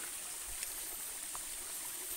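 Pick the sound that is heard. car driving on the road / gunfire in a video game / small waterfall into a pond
small waterfall into a pond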